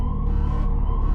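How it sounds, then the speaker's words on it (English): A prison siren in the video game Subterrain wails in a steady, loud electronic tone with a faint rising sweep, filling the brief moment with no voices. "A siren went off."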